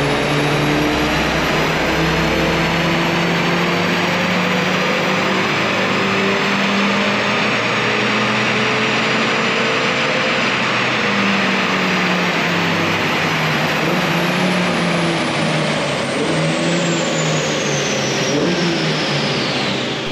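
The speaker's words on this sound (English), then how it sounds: "it's time to run up another power figure on the dyno." A car engine running on a dyno during a power test after a pod filter intake install, a loud continuous roar with engine tones that rise through the run and then fall.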